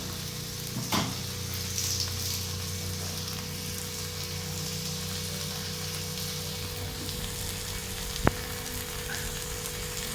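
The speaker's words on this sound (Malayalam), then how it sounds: "നന്നായിട്ട് മൊത്തത്തിൽ ഇളക്കാം നമുക്ക്" Prawn roast with curry leaves sizzles steadily in a pan while being stirred, a continuous close frying hiss with occasional scraping clicks and one sharp tap near the end.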